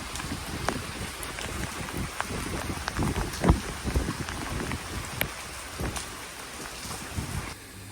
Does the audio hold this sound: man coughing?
no